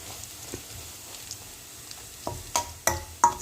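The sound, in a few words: soya 65 frying in a little oil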